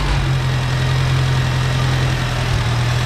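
A Farmall Cub tractor engine idles steadily nearby, a constant low rumble with a chugging vibration and no talking.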